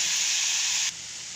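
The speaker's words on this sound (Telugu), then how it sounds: "ఇప్పుడు టమాటాలు గుడ్డు పప్పు వేసి వేయించుకోవాలి టమాటా కాస్త మెత్తబడేంత వరకు వేసుకొని వేయించుకోవాలన్నమాట" Tomatoes and onions fry in a pan for a paneer curry, giving a steady, loud sizzling hiss that drops abruptly to a quieter sizzle partway through.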